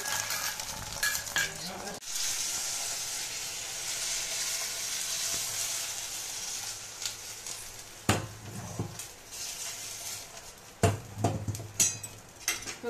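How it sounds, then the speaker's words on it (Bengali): Egg for an omelette fries in hot oil in a wok, a steady close sizzle broken by a few sharp scrapes and knocks of a spatula against the metal. "ডিমটা দিয়ে দিলাম কড়াইতে।"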